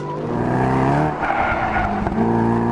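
A 2014–2015 Mercedes SLS AMG drifts with a loud, close engine roar and a sustained, rising tire squeal from the skidding tires, with no voices.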